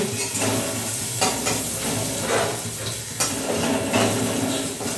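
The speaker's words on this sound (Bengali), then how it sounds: "শুকনো লঙ্কা দিয়ে দিলাম, শুকনো লঙ্কাটা ভাজা ভাজা হচ্ছে" Dried red chillies and then green chillies fry in hot oil in a pan, giving a steady, close sizzle with bursts of stirring scrapes at intervals throughout.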